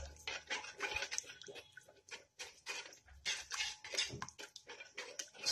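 Masala spices and yogurt being stirred and fried in a pan, giving a steady run of scraping, clinking spoon-on-metal strokes and soft sizzling patter, close and moderately loud, with no talking.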